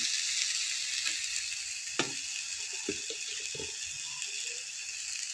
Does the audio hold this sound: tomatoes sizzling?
yes